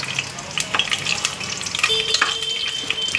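Whole spices, cinnamon, cloves, cardamom, bay leaf and a little cumin, frying in melted ghee for a mushroom biryani. A close, uneven crackle and sizzle is broken by scattered sharp pops and spoon scrapes.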